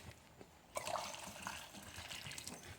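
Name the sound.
pouring water into simmering beef pho broth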